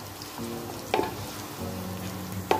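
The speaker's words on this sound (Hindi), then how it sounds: "ये डाल देंगे एक मिनट इन्हें भी भूनेंगे क्योंकि इनका फ्लेवर अच्छी तरह से ऑयल में मिल जाए" Whole garam masala spices fry in oil for mutton korma, a low steady sizzle with two sharp clinks or scrapes of a spoon against the pan.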